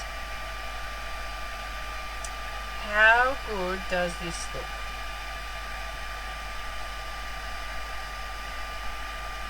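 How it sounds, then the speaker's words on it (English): A heat gun running while heating embossing powder, a steady airy whir and hiss throughout, with someone briefly speaking over it midway. "Apologies for the noise from the heat gun if you can hear that."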